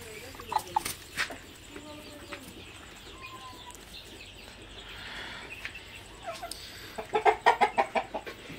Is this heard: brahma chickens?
yes